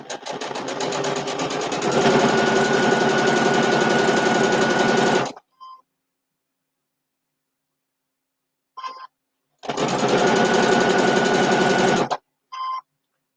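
A sewing machine stitching a quilt-as-you-go mug rug runs in two steady, loud whirring bursts of rapid needle strokes, about five and three seconds long, separated by silence and a few short clicks of handling, with no talking.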